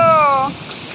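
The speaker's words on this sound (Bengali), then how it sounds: "বছরের প্রথম বৃষ্টির আনন্দ" The year's first rain falls as a loud, even hiss, briefly overlaid at the start by a short, high, wavering animal cry that fades within half a second.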